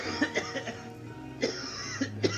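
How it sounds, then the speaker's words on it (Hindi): An elderly man coughs repeatedly in a staged school annual-function skit, several harsh, irregular bursts spaced through the moment with brief pauses between them, fairly close and alone without talk. "पापा, आप खांसना बंद करोगे प्लीज?"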